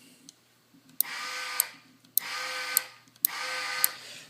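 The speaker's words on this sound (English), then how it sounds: "You can also hold the button down so that it'll continue to drive the motor." A telescope altitude drive motor runs in short bursts: three separate whirring pulses, each about a second long, each opening and closing with a sharp click, close and fairly quiet, with near silence between them.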